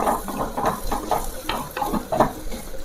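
Onions frying and being stirred in a clay pot, a steady close sizzle broken by repeated scraping strokes of the spoon, with no voices.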